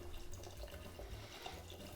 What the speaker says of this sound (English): And then we add club soda. I'm gonna add about half of this bottle.